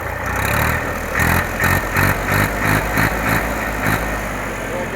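A 2012-13 model tractor engine, a 7250, idles with a steady mid-range rumble and rhythmic clattering pulses roughly every half second, close and loud throughout.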